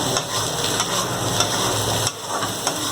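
White chickpea sundal being stirred with masala in a pan, a steady scraping and tossing texture with light sizzling throughout, close and continuous with brief louder spoon strokes.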